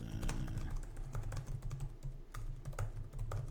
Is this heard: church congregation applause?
no